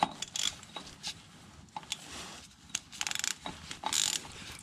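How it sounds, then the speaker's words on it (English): An oil filter wrench on a ratchet tightens the filter cap on a Toyota Tacoma 3.5-liter V6, giving quick bursts of close ratchet clicks between short pauses, with no talk. "We're going to put our MotivX tool back on it."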